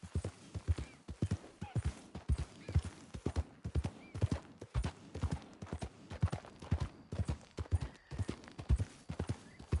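A horse galloping in Red Dead Redemption 2, crisp evenly spaced hoofbeats pounding close and clear, with an occasional faint whinny.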